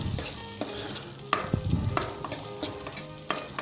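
Large-cut chopped onion sizzles in hot oil over a high flame while being stirred for a Punjabi aloo moongray sabzi, with steady close frying crackle and several distinct scraping stir strokes.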